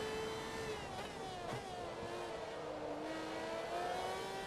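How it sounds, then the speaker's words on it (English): Steady race car engine drone in the Xbox 360 game Forza Motorsport 2, a continuous held whine that shifts pitch slightly as the car runs down the back straight, fairly faint and without talk. "So this car sounds pretty good."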